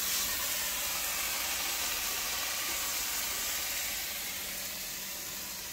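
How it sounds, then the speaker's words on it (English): Steady, loud sizzling hiss of sous vide T-bone steaks searing in a hot cast iron skillet, continuous throughout and slightly fading toward the end, with no talking. "You're going to hear it sizzle."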